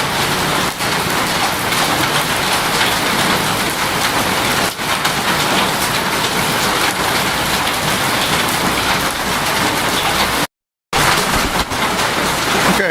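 Heavy rain pours steadily at night in Taiwan, a dense, loud, unbroken hiss of drops hitting surfaces, with a brief total dropout near the end.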